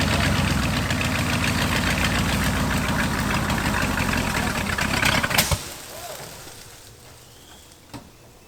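An old, long-abandoned big block Ford 4x4 engine idles roughly and loudly for about five seconds, then cuts out and dies, leaving quiet with a faint thump near the end.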